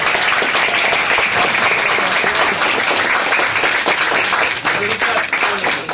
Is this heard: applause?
yes